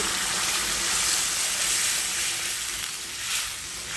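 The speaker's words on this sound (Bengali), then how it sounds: "গরম জলটা এখন দিয়ে দিচ্ছি" Hot water being poured into frying fish masala for a rupchanda fish curry, a loud dense hiss and bubbling sizzle filling the clip, close and continuous, easing slightly toward the end.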